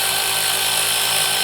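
An automatic impact wrench runs continuously, close and loud, spinning a nut off the variator pulley of a scooter being fitted with a new belt and rollers; the steady whir stays unbroken with no voices.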